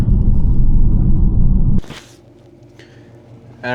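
A totaled Hemi Challenger, an old V8 muscle car, gives a loud, deep engine rumble for almost two seconds, then cuts off to near quiet before a brief rushing noise returns at the end.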